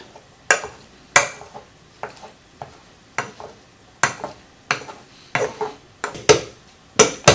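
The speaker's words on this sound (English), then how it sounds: "if you want to mash them, Kyle, mash them really well so they're nice and smooth" Boiled potatoes being mashed by hand in a pan for a cottage pie: repeated separate thuds and scrapes of a masher against the metal pan, spaced about half a second apart, close and clear with no talk.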